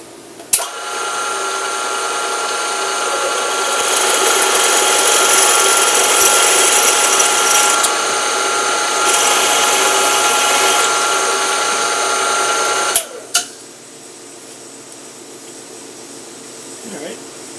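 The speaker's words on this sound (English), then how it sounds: "we're going to drill and tap this" A power drill whines steadily as it bores into metal with a size Q bit, for a 1/8 inch pipe thread tap hole, for about twelve seconds, then stops, followed by a couple of sharp clicks.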